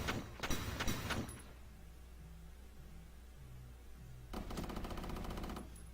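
Gunfire in the video game Valkyria Chronicles, a woodland battle: a rapid burst of shots opens the moment, then quiet ambient hum, then another sustained volley of rattling shots near the end.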